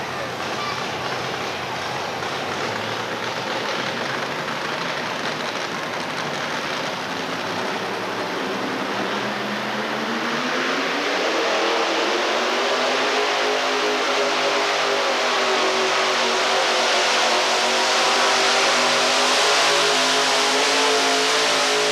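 A Hemi-powered truck called the Hemi Hauler roars through a 1987 outlaw modified truck pull in Murray, Kentucky, its engine loud and sustained, climbing in pitch as it drags the sled, with a crowd-like wash of noise beneath.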